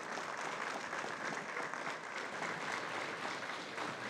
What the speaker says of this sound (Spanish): quiero pedir un fuerte aplauso a la Fuerza Armada Nacional